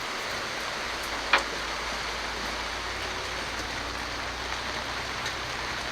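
Steady rain falls outdoors beside a tent, a continuous even hiss with one brief sharp tick early on; no voices.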